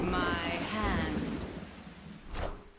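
Rain and thunder from the Storm location in Marvel Snap, a broad wash of steady rain with a low rumble swelling and fading, then a brighter crackling burst near the end, fairly loud across the whole moment.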